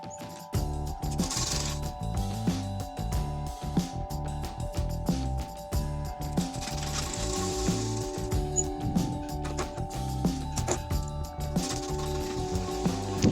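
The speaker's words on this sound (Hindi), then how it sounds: "डबल सिलाई दे रही हूँ इसमें मैं," A sewing machine stitches a lined blouse with a double seam, running in busy mechanical bursts of whirring and rattling with short stops between runs, loud and close.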